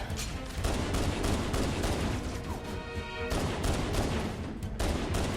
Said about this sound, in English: Ah, yes, the shotgun. The best close-range weapon against the flood.